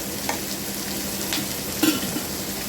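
Onions with a little salt sauté in a pan for kara adai, a soft, continuous sizzle with a few light utensil taps and stirs near the middle, and no talking.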